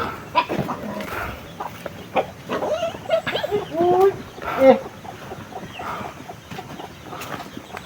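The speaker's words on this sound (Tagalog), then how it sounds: "Maraming manok doon." Chickens cluck and squawk close by in an outdoor yard, with people talking over them and a dog barking now and then.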